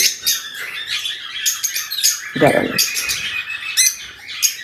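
A Fischer's lovebird gives loud, harsh squawks and chirps that repeat rapidly throughout, close by, with a brief low voice breaking in midway.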